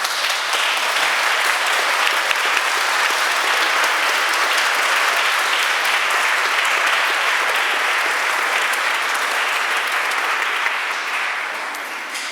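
Church congregation at a First Communion Mass applauds catechists, acolytes and sacristans, a full, dense, sustained round of clapping filling the space and tapering slightly at the end.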